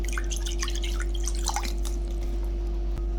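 Rose water trickling and dripping onto layered potato biryani rice, a close, light patter of drops over a steady low electrical hum.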